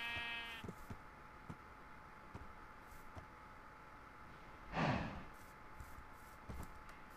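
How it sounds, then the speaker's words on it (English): A single sheep bleat from the Minecraft video game, short and fairly close, rising out of a quiet background hum partway through, with no talking. "Out the way, sheep."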